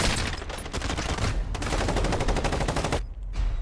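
Light machine gun fire in a video game: a loud, unsuppressed automatic weapon fires in long continuous rapid bursts close up, pausing once briefly near the end and then starting again, with no talking over it.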